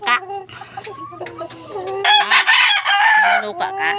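Chickens cluck and a rooster crows during egg collecting, loud and close over several short bursts, with a few brief voices mixed in.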